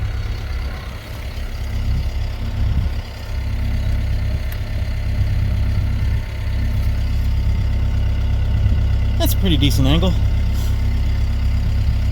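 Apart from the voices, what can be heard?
Ventrac tractor engine idling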